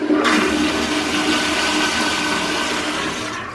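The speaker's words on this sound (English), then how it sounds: "Check the toilet sound." A powerful hotel toilet flushes with a loud, forceful rushing roar of water that starts abruptly and holds steady for several seconds, close by in a small bathroom, with no talking.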